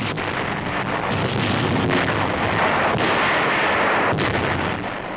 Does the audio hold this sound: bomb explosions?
yes